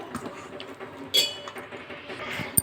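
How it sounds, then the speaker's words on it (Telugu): Oats idli batter with carrot being stirred in a bowl, soft scraping and wet mixing with a few sharp spoon clinks against the side, close and fairly quiet. "బాగా కలిపేసుకోవాలి ఇప్పుడు"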